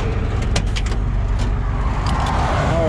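A flatbed tow truck idles with its PTO engaged, giving a steady, close mechanical drone and low rumble with a few faint clicks and knocks over the top.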